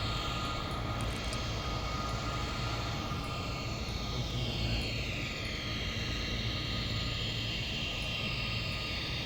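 Cargo plane in Microsoft Flight Simulator 2020, flying out of a high-altitude airport: a steady, loud engine drone that holds without a break, with no speech.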